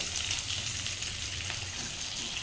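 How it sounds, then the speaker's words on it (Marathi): Salted eggplant sautéing in hot oil in a pan, a soft continuous sizzle and hiss that holds steady and fairly quiet, with no talk over it. "हे मस्त असं छान तेलात आता हे असं परतून घ्यायचं."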